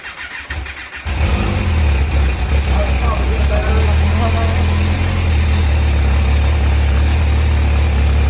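A 2008 MV Agusta F4 R312 sportbike engine fires up after a second of quiet and settles into a loud, steady, close idle that continues unbroken to the end.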